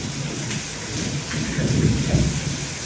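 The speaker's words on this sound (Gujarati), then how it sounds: "મિત્રો ગાજવાનું ચાલુ થઈ ગયું ને વરસાદ પડે જોરદાર." Thunder rumbles low beneath heavy rain pouring steadily during a downpour in Gujarat, the rolling boom swelling toward the end over the continuous hiss of falling water.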